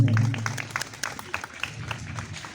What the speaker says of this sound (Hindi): जोरदार तालियों से हम लोग स्वागत कर रहे हैं